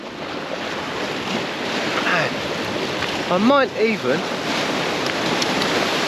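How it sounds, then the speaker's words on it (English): Waves rolling in on a beach in Zante, Greece: steady wash of surf with wind noise on the microphone, continuous and fairly loud, with a person speaking briefly over it. "The waves coming in."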